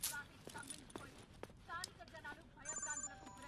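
A telephone rings in a scene from the 2016 Telugu feature film Jakmi Badsha, with a steady electronic tone entering partway through over background noise and scattered sounds.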